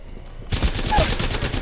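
Gunfire in the Apex Legends video game erupts as a sudden loud burst of rapid shots that keeps hammering close by after a quieter moment.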